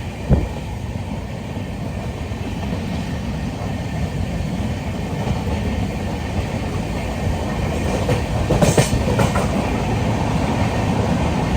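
An LHB passenger train on the Konkan Railway in Goa rumbles loudly and steadily along the rails, with low clattering throughout and a few brief metallic squeals near the end.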